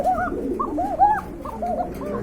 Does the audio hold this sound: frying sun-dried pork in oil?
no